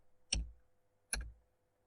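Two sharp, isolated key taps about a second apart, close and crisp, with near silence between them.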